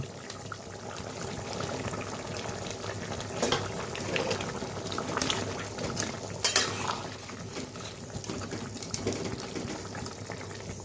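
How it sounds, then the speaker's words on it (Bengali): Lentil fritters being dropped into simmering curry with drumstick pieces in a home kitchen: soft clinks of utensils against the pot and light splashes and bubbling, steady and close, with a few sharper clatters scattered through. "ঝোলটা জাল হচ্ছে, তো এর মধ্যে আমি ডালের বড়াগুলো ছেড়ে দেব"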